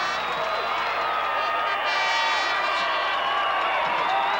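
A college football crowd at the 1983 Potato Bowl cheers and whoops after a Fullerton touchdown, a sustained roar with applause that swells partway through, while a voice talks over it.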